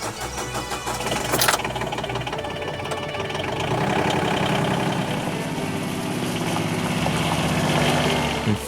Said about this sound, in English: this John Deere Gator duly arrived, and we were ready to go.